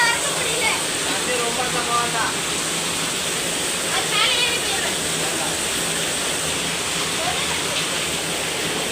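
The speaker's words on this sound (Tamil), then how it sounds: "தண்ணி ஜாஸ்தியா தான் இருக்குவா." Water rushes at a hillside stream or waterfall in a constant loud broadband roar that fills the whole stretch, with faint voices buried beneath it.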